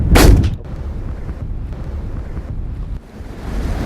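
A single loud shotgun blast rings out in the open English countryside during pigeon shooting over maize fields, followed by strong wind buffeting the microphone with a steady roar.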